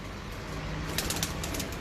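Breeder pigeons on a rooftop in Multan give soft cooing and brief wing-flaps, a short burst of fluttering rising midway over a steady low background.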